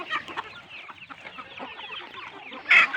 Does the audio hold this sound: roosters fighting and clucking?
yes